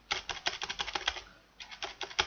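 Close, crisp keystrokes clatter on a faulty computer keyboard in an irregular run, pause briefly, then resume, with no talking.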